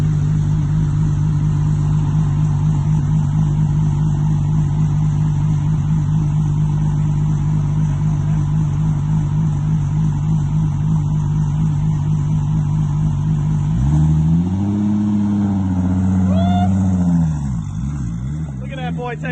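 A Toyota Supra engine drones loudly and steadily at idle for a long stretch, then rises and falls in pitch as the car pulls away in first gear, with voices talking over it.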